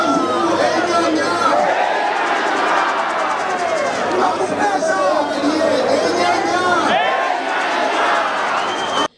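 A large crowd of supporters gathers outside a party's federal headquarters in South Kivu, loud and continuous chatter and shouting voices filling the air, with some cheering.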